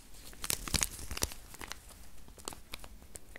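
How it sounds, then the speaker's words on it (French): A herbal tea sachet torn open up close, soft papery rips and crinkles in quick bursts, delicate and quiet. "Je vais donc ouvrir ce sachet."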